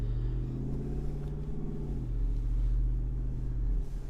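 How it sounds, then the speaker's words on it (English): A 2024 Jeep Wrangler Rubicon 392 Final Edition V8 burbles at low cruising speed, a deep, steady, close rumble with a throbbing low note that shifts slightly as the engine load changes. "So even at just low speeds, cruising around town, it just burbles this V8"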